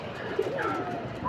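Racing pigeons coo softly in low, throaty calls over a steady background murmur of outdoor noise, several birds close by.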